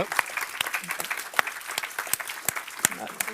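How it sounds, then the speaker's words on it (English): Applause for panel speakers at a Swedish conference: a fairly faint, sparse round of clapping with distinct individual claps spread across the room. "I think we should give the speakers a big applause."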